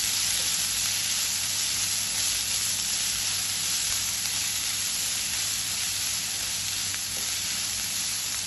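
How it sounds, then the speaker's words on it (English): Onion and soft green chili sautéing over a low flame for pepper chicken, a steady, even sizzle with broadband hiss running unbroken throughout and no talk. "Adding the onion, the soft green chili, saute it well. I have put the flame on low."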